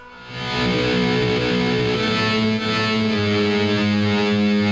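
Electric guitar played through a distortion pedal with delay, a thick sustained chord that swells in and holds with echoing repeats trailing underneath.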